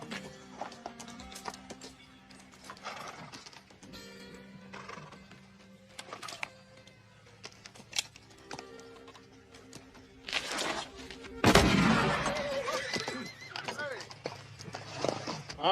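Horses in a Western cowboy film scene, with hooves clip-clopping and a neigh rising near the end, mixed among dialogue and a sudden louder burst of movement.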